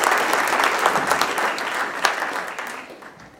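Audience at a Rotary club meeting clapping steadily and fairly loudly for about three seconds, the applause fading out toward the end with no talk over it.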